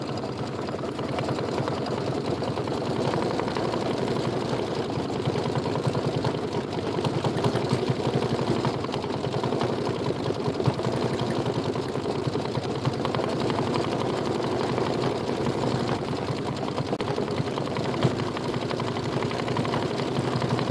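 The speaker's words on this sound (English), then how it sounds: "That's the last thing we're going to do, is we're going to stitch that out." An embroidery machine stitches out a bunny-themed mini quilt design, running as a continuous fast mechanical whir with a steady rapid needle rhythm at close range.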